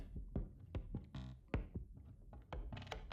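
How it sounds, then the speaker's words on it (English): A looping percussion pattern of soft thumping hits and short clicky accents, evenly rhythmic, with a brief rattling burst partway through, in an experimental music track. "I'm adding in this perk loop right here"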